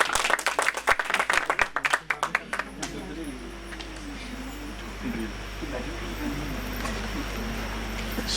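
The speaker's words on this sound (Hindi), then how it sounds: "जोरदार तालियों से ऋषिका का स्वागत करें" An audience at a cultural programme claps loudly in a burst of applause for about two seconds, then it fades into a voice speaking over a steady hum.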